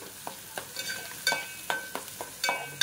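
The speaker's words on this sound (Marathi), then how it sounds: "कांदा चांगला असा परतून घ्यायचा आहे" Finely chopped onion is sautéed in a pan under a low, steady sizzle. A spatula strikes and scrapes at regular intervals, each stroke sharp and close.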